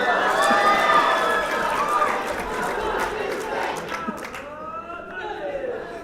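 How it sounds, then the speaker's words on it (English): An audience at a district governor's farewell speech at a conference, cheering together, with the speaker's mother leading them; a loud mix of crowd voices and whoops that fades a little over the seconds. "Wow, my mom led a cheer."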